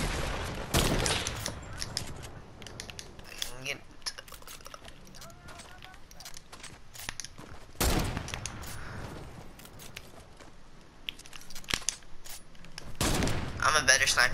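Sniper rifle shots go off in a Fortnite match as three sharp, loud cracks spaced several seconds apart, with softer game clicks and a voice talking in between.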